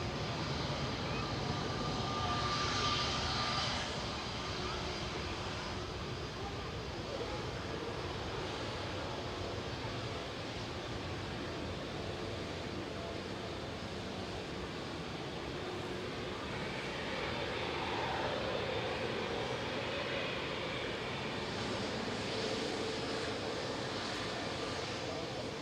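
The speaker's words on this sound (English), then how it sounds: "Touching down on 23 rights, GHLYF, one of Jet2's A321 classics." Jet2 Airbus A321 airliner touching down on runway 23R at Manchester Airport, arriving from Venice; a steady broad roar of engines and rushing air holds throughout, loud and continuous with slight swells.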